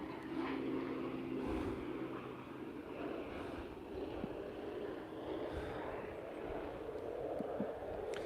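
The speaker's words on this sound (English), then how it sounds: "And there's that plane again, that loud plane." A loud airplane flying overhead gives a steady, broad engine roar that fills the whole stretch at an even level, with no talking over it.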